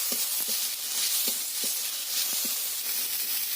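Chopped tomato goes into a pan of frying garlic, and a bright, continuous sizzle follows, broken by a few light clicks of stirring, close and without talk.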